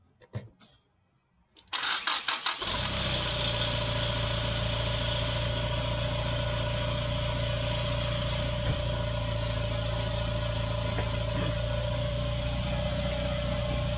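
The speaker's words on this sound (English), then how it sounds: "jump in the car and start it real quick" A 1989 Chrysler Conquest TSi engine cranks briefly after a quiet start, catches, and settles into a steady, even idle that runs close and alone for the rest of the clip.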